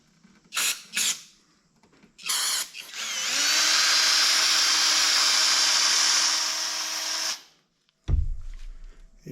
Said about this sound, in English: So I'm going to put this on the drill and try and clean some more of these ports out.